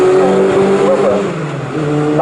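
750 Formula race cars racing at Snetterton, a loud close engine roar with pitch shifting as a car passes, brief and filling the whole moment without talk.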